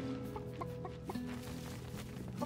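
A chicken in a video game clucks softly in short bursts over a steady background music bed, fairly quiet and repeating every fraction of a second.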